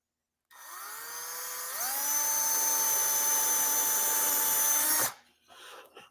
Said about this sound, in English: We're going to drill a small hole right there.